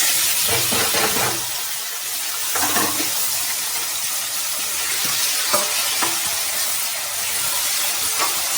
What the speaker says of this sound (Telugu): ఇప్పుడు మనం కట్ చేసిన వెజిటేబుల్స్ కూడా వేసేద్దాం